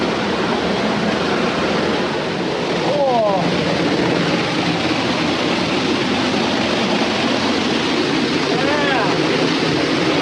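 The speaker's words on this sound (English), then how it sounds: "Okay guys, I'm going behind this waterfall." Waterfall at Lower Stoddard Falls roaring up close, a loud steady broadband rush of falling water filling the whole scene, with brief voices calling out over it.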